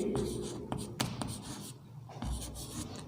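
Marker or chalk writing on a classroom board: a steady scratchy rubbing run of strokes with brief taps and pauses between words, moderately close over faint room tone.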